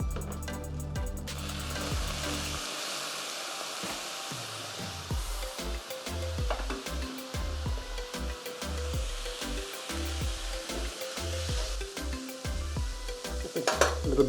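Pork carnitas sizzle and crisp in a hot pan, a steady frying hiss broken by repeated scraping and stirring strokes that grow busier toward the end, with no one talking.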